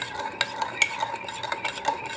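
A utensil stirs chocolate brownie batter in a mug, giving quiet, uneven scraping and clinking against the sides, close up and soft, with no voices.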